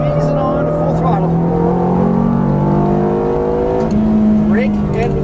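Ferrari F430 F1 engine pulling at full throttle on a track, a steady loud rising drone with gear-change dips, while an instructor talks over it.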